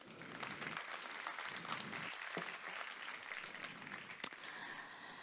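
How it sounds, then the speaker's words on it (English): Audience applause for panelists at a steel technology conference, a steady crowd of clapping lasting several seconds at moderate volume in a hall, with no speech over it. "Please give them all a warm applause."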